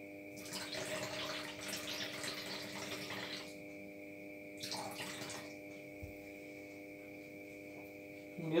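Water is poured into a plastic cup for a water-pollution classroom experiment, a steady splashing pour for a few seconds, then a short second pour, under a constant electrical hum.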